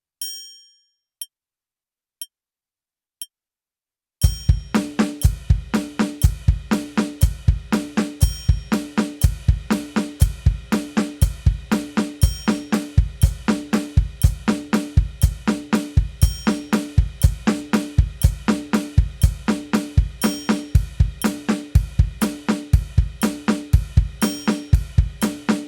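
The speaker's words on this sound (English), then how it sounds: "but with the addition of playing quarter notes with your hi-hat foot" A drum kit plays a continuous coordination exercise with steady quarter notes on the hi-hat foot, preceded by four evenly spaced count-in clicks. The hits are dense, regular, loud and close, with no talk.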